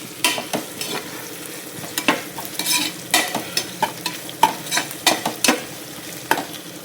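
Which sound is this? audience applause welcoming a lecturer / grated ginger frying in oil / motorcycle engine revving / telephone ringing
grated ginger frying in oil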